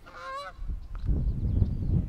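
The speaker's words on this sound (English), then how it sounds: "How do you exist in that level of noise? And why do you have to do it while you fly? Just fly silently. Geese." A flock of geese honk loudly overhead as they fly, several harsh calls in a burst at the start, then a lower rumbling wash of wind and traffic-like noise follows.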